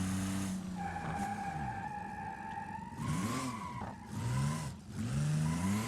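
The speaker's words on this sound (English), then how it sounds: "It's a lot of wheel spin." Ibishu Claria wagon drift car in a driving video game, tires spinning and squealing in sustained tonal whines that rise and fall over a constant engine drone, with brief gaps between bursts.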